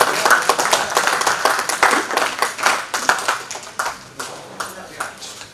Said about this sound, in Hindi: तालियां बजाइए बच्चों।